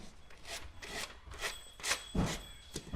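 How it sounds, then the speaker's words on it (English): Rhythmic rasping strokes of hand sanding on a wooden box, repeated back and forth at close range with a steady scratchy texture. "I am sanding this off before I decoupage"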